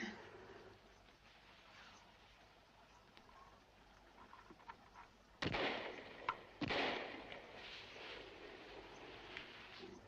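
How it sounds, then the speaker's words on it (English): Two sharp, loud reports from hunters' guns ring out outdoors in Scotland at about five and a half and six and a half seconds, each with a short echoing tail, over a steady background hiss. "Gunshots."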